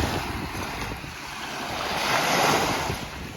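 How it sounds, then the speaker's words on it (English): Wind blows across a boat out on the Gulf near Cayo Costa, a steady roaring rush with the wash of waves underneath, swelling slightly louder midway, close to the microphone, with no one speaking. "A little bit windy off the Gulf"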